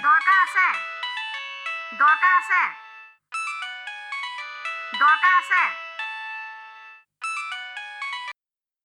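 A phone ringtone plays a bright chiming melody in repeated bursts, with a child-like sung voice mixed in, loud and close.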